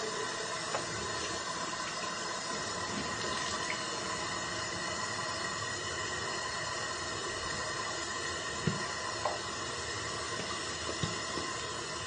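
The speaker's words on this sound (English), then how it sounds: "Okay, so now I'm gonna wash my face." A bathroom tap runs steadily during face washing, giving a continuous soft hiss of flowing water with a few faint splashes and clicks, fairly quiet and with no talking.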